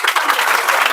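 A class of students clapping together in a math lesson, a brief loud burst of rapid, dense applause with no talk over it.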